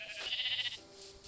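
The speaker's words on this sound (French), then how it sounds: "Tiens, en plus, il y a plein de moutons." Sheep bleating in Minecraft, a couple of short, nasal baa calls from the game's animals, fairly close and clear over a quiet background.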